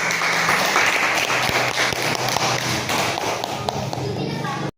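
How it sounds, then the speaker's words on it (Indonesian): A classroom of students claps together after a lesson on puberty, a dense steady burst of applause lasting several seconds with some louder individual claps and faint children's voices mixed in before it cuts off. "tepuk tangan dulu."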